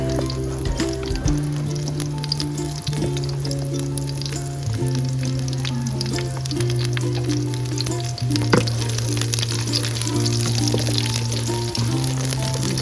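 Shahi jeera fries in hot oil for Telangana-style bagara rice, a continuous crackling sizzle heard up close alongside a steady low humming tone.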